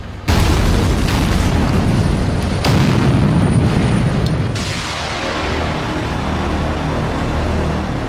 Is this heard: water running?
no